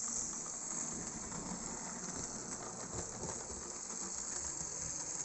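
A big Chapelon model locomotive runs around the tight curves of a small 90x100 cm layout, giving a steady, close mechanical whirr and hiss that holds level throughout with no voices.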